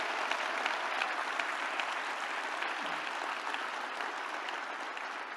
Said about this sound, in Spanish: Dale un aplauso más fuerte al Señor por eso.